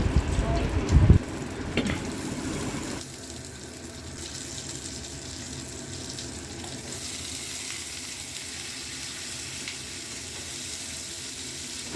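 Pointed gourd (patol) frying in oil tempered with cumin and bay leaf, a loud hissing burst as the pieces hit the hot pan, then settling into a steady lower sizzle with a voice talking.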